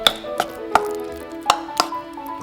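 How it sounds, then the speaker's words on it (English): Blanched vegetables being mixed into ricotta cheese in a bowl for mushroom ravioli filling, with five or six sharp, evenly spaced knocks of a utensil against the bowl over a soft steady background. "Add the blanched vegetables into the ricotta cheese and mix."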